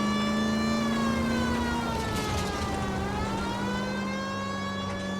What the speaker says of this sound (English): we still got the sirens and everything.